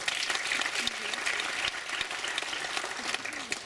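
An audience applauds steadily at the Zambrowskie Żubry 2013 award ceremony, a dense, even wash of clapping from a full hall that holds at a moderate level throughout.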